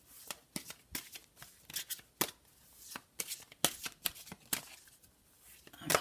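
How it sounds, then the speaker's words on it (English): A deck of oracle cards is shuffled by hand, giving a series of sharp, close riffling snaps and soft slides in an uneven rhythm, with no voices. "I'm first going to shuffle these cards to get rid of the energy from the previous reading"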